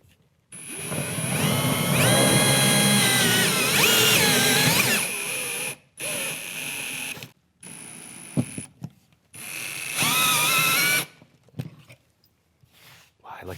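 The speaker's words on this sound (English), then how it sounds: "You're going to want to use steady pressure, okay, and low speed." A Ryobi drill runs at low speed into drywall in several bursts, a whirring motor whine under steady pressure, with short pauses between runs and a person speaking in the gaps.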